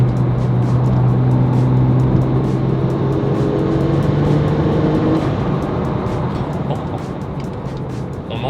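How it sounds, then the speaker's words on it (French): A 2006 Porsche 911 997 Turbo accelerates hard, its engine roaring loud and close while the turbos add a rushing breath that holds steady for several seconds before easing slightly. "On entend la cavalerie, le souffle des turbos"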